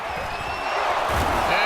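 Home crowd in the Madden NFL 22 video game football broadcast, a loud sustained stadium roar of cheering that rises toward the end, heard under continuous commentator talk.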